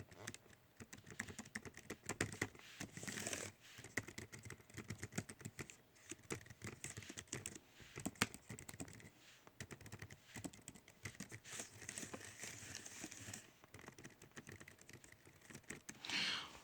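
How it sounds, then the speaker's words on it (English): Typing on a JellyComb portable non-mechanical keyboard makes quiet, steady, rapid key clicks in a continuous patter with a few short pauses. It is close but soft, with no voices. "I'm gonna test out some clicking for anybody that's audiophiles or people that like their clicking"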